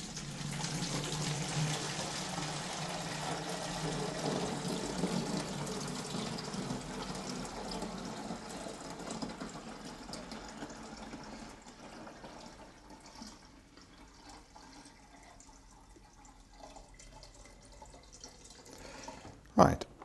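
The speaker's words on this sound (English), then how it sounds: "I'm going to pour this into my watering can" Liquid fertiliser or ferrous sulphate mix is poured into a garden watering can, making a continuous splashing, gurgling stream that fades gradually over about twelve seconds into quieter trickles, ending with a short knock.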